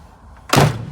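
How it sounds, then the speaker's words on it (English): A single solid thunk as the door of a 1975 Chevrolet Corvette swings shut, loud and close, followed by a brief low resonance in an otherwise quiet setting. "Let's close the door, see if the door jar behaves this time."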